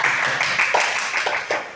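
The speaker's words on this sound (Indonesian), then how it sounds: "Beri tepuk tangan untuk Ibu Rizka." Brief scattered clapping from an audience at a teachers' positive-culture dissemination session, a short burst of close hand claps with a faint voice underneath.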